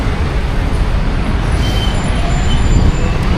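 Steady city road traffic with buses and other vehicles at a green light, a continuous broadband rumble holding at an even, fairly loud level with no one talking.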